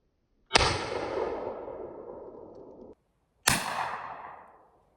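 Two loud, close blasts from a Winchester 1897 trench gun, each a sharp crack trailing into a long rumbling decay, spaced about three seconds apart with silence between.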